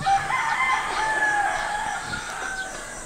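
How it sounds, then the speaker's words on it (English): A rooster crows loud and close for a few seconds, one long drawn-out call over soft outdoor background noise on a sunny morning in Puerto Galera, Philippines. "Here, the rooster's crowing."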